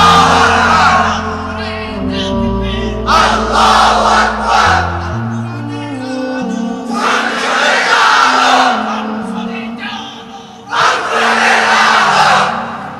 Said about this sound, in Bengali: এবার মুরব্বী দাঁড়িয়ে স্লোগান দেন, কোরআন সুন্নাহর আলো সংসদে জ্বালো।